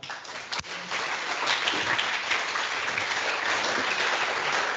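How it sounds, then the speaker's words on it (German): Sustained audience applause at an evening event opening a conference, dense steady clapping from a crowd filling the whole stretch with one sharp louder clap near the start. "Applaus für euch."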